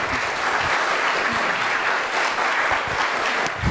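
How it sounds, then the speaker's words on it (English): An audience at a foster care advocacy event gives a speaker a big round of applause, dense and loud continuous clapping filling the whole stretch. "So let's give Dennis a big round of applause."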